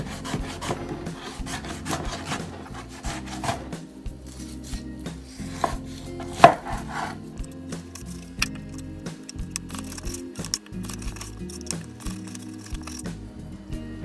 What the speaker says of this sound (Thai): ตรงนี้ผมจะบั้งให้เป็นตามยาวก่อนนะครับ